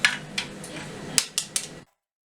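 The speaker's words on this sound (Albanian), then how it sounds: "Përzihen vezët." Eggs for Albanian milk byrek are whisked in a bowl, giving a few sharp clinks and taps against the side, spaced irregularly and close by, with no talking.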